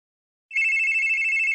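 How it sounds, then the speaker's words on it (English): A telephone in the video game The Case Book of Arne starts ringing abruptly after a moment of silence, a loud, bright, sustained electronic ring held steadily to the end. "Whoa, the phone!"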